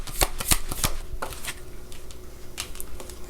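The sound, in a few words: shuffling tarot cards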